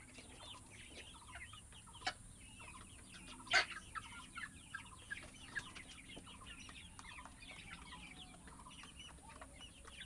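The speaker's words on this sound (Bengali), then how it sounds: "মুরগির খাবার খাচ্ছে মুরগিরা" Sonali chickens on a poultry farm with automatic drinkers cluck softly and continuously while eating feed, giving a faint, busy chatter with a few sharper taps and pecks and a steady high background hum.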